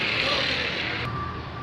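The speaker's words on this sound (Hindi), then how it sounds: "ये देख लें, ये बीप की आवाज़ दी इसने" A faulty AC/DC ceiling fan's circuit, hooked to solar power, gives a single steady electronic beep that starts partway through over a broad hiss and hum, moderately loud and close.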